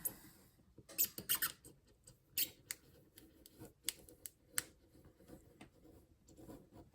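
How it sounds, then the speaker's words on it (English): Quiet scratchy slicing and scraping with small clicks and ticks, irregular and close, as a razor blade cuts through cardboard or paper, with no talking. "try to make one nice smooth cut right across"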